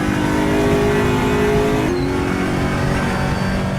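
Aquila race car engine at Monza revving hard with a gear shift partway through, a loud, continuous close engine roar with the pitch dropping briefly at the shift.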